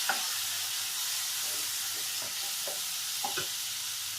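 Chopped tomatoes go into a frying pan of browned onions for a green chilli pickle dish, bringing a continuous hissing sizzle broken by a few soft scraping stir strokes, close and without talk.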